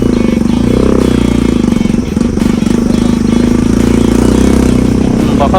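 A motorcycle engine drones loud and close as the bike rides a mountain road in Taplejung, Nepal, toward a waterfall, a steady throbbing rumble that dips briefly before holding on.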